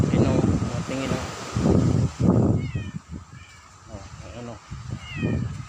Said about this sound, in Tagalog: Ayun na yung pusa.